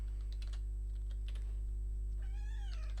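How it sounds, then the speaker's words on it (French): Near the end a house cat lets out a clear rising-and-falling meow, preceded by light computer keyboard clicks, all over a constant low electrical hum. "Qu'est-ce qu'il y a, bébé chat?"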